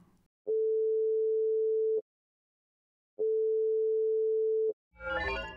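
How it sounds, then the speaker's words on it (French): Telephone line tone during an audio-drama call: two long, steady electronic beeps separated by a short silence, with a voice cutting in at the very end. "Appelle James Hoxton"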